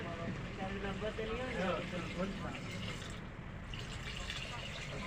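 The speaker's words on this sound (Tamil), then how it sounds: "ஓகே, நான் கொஞ்சோண்டு தண்ணி ஊற்றுறோம்." A little water poured into a curry while cooking at home, a soft gurgling splash of liquid into the pot, moderately close, with someone talking over it.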